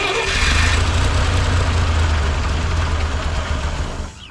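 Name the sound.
1958 Lull cherry picker engine cranking, trying to start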